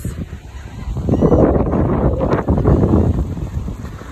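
Geese honk several times over gusty wind noise and lapping water outdoors, the calls moderately near.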